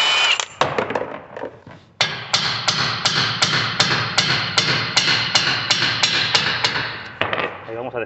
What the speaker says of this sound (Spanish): enseguida con el dado vamos a golpearle en la parte de atrás, porque a veces junta sarro alrededor y con los golpes se quebra ese sarro